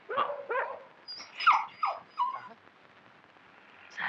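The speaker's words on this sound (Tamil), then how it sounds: "ஐயோ நாய் தரத்து காப்பாத்துங்க" A dog in a comedy scene chasing a man, giving a few quick yelps and barks close by, the short sharp bursts spaced out before trailing off.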